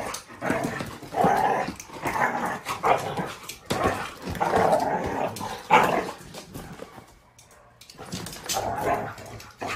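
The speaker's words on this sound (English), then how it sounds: "Those are two dogs playing in my office at work." Two dogs play indoors in an office, with close, loud bursts of barking and growling that keep coming in rough, uneven waves throughout.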